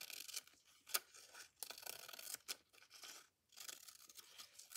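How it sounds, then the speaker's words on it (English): Scissors snipping through soft fabric to cut out a tag, faint close crisp cuts and rustles arriving in irregular bursts with short quiet gaps. "I'm going to cut this out."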